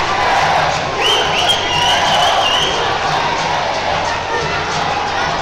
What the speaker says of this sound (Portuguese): Escuta a torcida, galera.